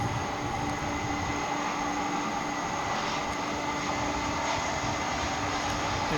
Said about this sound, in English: a Frontier flight coming in from Las Vegas